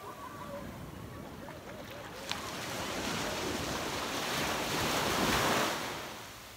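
Ocean waves wash steadily onto Kappu beach near Manipal around sunset, a continuous broad roar of surf building toward the end, mixed with wind buffeting the microphone.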